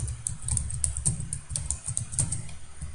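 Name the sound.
typing code on a computer keyboard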